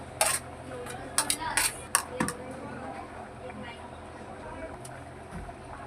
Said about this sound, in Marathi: हे दही आणि हे 2 मोठे कांदे, कोथिंबीर आणि 1 टोमॅटो एकत्र करून घेते